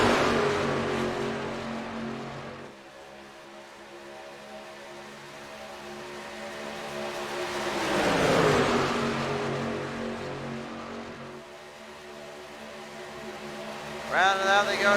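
Race trucks in an East Coast Racing Circuit truck series event at Talladega Speedway, a sustained engine roar that swells as the pack sweeps past down the front straightaway, then recedes into a steady distant drone.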